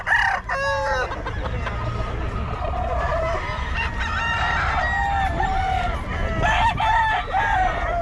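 Roosters and hens offered for sale, several birds crowing loudly and clucking close by in overlapping calls, with a low murmur of people in the background.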